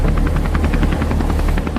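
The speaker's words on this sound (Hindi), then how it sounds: "चल पायलट, हेलीकॉप्टर को उड़ा।" A helicopter's rotor chops in a fast, steady rhythm as it lifts off, loud and close throughout, with no voices over it.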